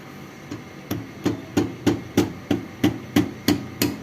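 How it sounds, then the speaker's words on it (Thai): A dozen evenly spaced, solid thumps from a rubber mallet striking something, steady rhythm, close and fairly loud, no voices. "ค้อนยางแป๊บหนึ่ง"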